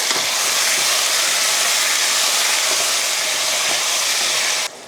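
Country chicken with turmeric and salt sautéing in a hot pan, giving a loud, continuous close sizzle with a dense steamy hiss that holds steady before cutting off abruptly at the end.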